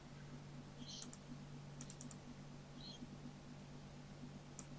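A few faint, crisp clicks of a computer mouse while portions of a photo are being selected, spaced irregularly over a steady low hum, with no talking.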